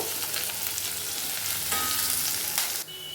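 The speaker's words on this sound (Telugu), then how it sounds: "దాంట్లోనే కొద్దిగా ఇంగు వేసుకోవాలి. వేసుకొని వేపుకుందాము." Asafoetida frying in a pan with chopped garlic for Andhra-style horse gram rasam, a steady close sizzle that continues without pause and no speech.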